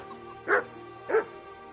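Two sharp dog barks in Kingdom Come: Deliverance, spaced about half a second apart over a low steady game ambience, no talking.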